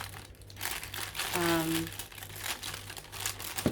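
Baking paper crinkles and rustles as it is handled up close, a dry papery crackle running through the clip while someone talks over it.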